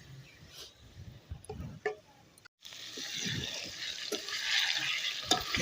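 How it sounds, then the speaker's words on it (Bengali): Potatoes frying in a pan as spice paste of ginger, cumin and chili is added, soft scrapes and stirring clatter followed by a rising steady sizzle of oil, moderately close. "তো আলুগুলো ভাজা ভাজা হয়ে গেছে, এখন দিয়ে দিচ্ছি মশলা।"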